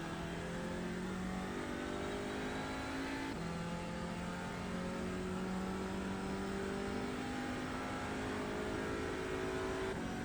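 Audi TCR race car in the iRacing sim at the Nürburgring, its engine droning steadily at high revs, with pitch steps where gears are shifted up and down, loud and constant throughout.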